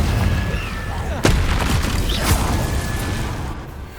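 Confringo fire-blast spell cast in Hogwarts Legacy bursts out as one sharp, loud explosive crack over a busy game soundscape, followed by fainter rumbling bursts.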